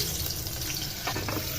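Water poured from a tap or jug into a cooking pot of colocasia leaf curry, a steady close splashing gush that runs the whole time with no voices.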